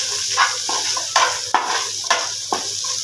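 Minced meat stirred and mixed with salt and chili spice masala, steady scraping strokes over a constant sizzling hiss, with sharp spoon-on-pan knocks every half second or so, close and alone.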